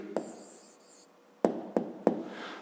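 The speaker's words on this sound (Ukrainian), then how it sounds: "Пишемо відповідь." Pen writing a math answer by hand on paper, a short scratchy stroke followed by three distinct taps or quick marks, close and fairly quiet.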